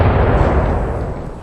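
A Spanish mountain howitzer fired with a four-ounce powder charge: a loud, heavy blast that fills the clip with a deep booming roar and rumble, slowly fading outdoors with no voices.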